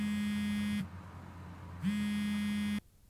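A smartphone rings right beside a Sennheiser AVX wireless microphone receiver, giving two loud, steady electronic buzzing tones, each about a second long, with a short gap between them. No voices are present.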